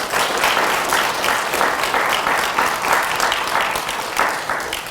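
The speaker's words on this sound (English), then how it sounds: "Can you please give them a round of applause?" A steady round of applause from the audience at a health care technology pinning ceremony, dense and sustained with gentle swells throughout.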